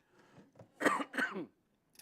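A person coughs and clears their throat twice in quick succession during a spoken prayer, loud and close, with a faint short sound just after and otherwise quiet.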